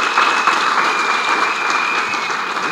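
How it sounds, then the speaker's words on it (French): Political activists at a post-election campaign rally in Ziguinchor, Senegal, applauding in a sustained, even wash of clapping from a crowd, dense and fairly loud with no talk on top. "je vous demande de vous applaudir vous-même"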